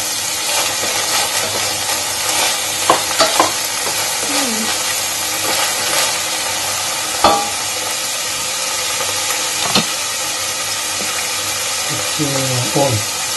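Parboiled vegetables fry and hiss steadily in a pan while being stirred, a continuous sizzle with occasional scraping clinks and a faint voice in the background.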